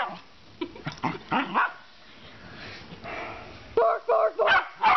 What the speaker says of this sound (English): Barking noises!